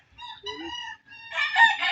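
A rooster crows on a chicken farm, a short clear call sounding close with a louder, harsher burst at the end.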